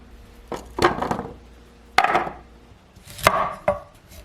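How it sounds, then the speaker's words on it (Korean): A knife chops kohlrabi into sticks on a board. Four or five crisp, close cuts come at uneven intervals, separated by quiet gaps, with no speech. "콜라비는 막대 모양으로 썰어 용기에 담아줄게요"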